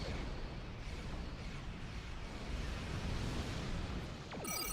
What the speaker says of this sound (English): Fireworks outside agree with me on that.